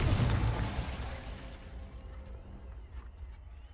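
Confringo explosive spell cast in Hogwarts Legacy, a loud burst at the start that rumbles and fades away over a few seconds, alone with no voice.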